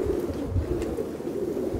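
Racing pigeons of the Angeletos type from a Santorini club coo softly and repeatedly close by, low throaty rolling calls that overlap into a steady murmur.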